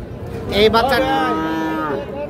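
A single drawn-out moo from a young bull calf at a cattle market, close and fairly loud.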